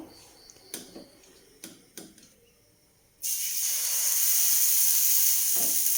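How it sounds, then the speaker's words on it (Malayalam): Batter of ground rice, urad dal and fenugreek hits a hot pan for uthappam: a few soft taps and clinks, then a sudden loud, sustained sizzle that carries on to the end. "ഇത് എടുത്തൊഴിച്ചിട്ട് നമുക്ക് ഊത്തപ്പം ഉണ്ടാക്കാം"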